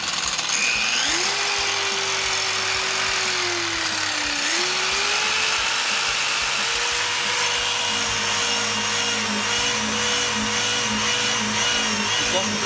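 A LINE-MATE machine runs at raised RPM, a loud steady motor whine with a tone that climbs, dips and settles while a constant broadband roar persists throughout.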